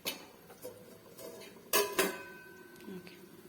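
A metal lid is set onto a cooking pot of mutter paneer curry in a home kitchen, giving a couple of sharp close clanks and a brief rattle amid quieter utensil taps.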